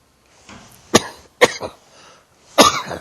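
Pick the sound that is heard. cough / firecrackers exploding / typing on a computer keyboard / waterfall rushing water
cough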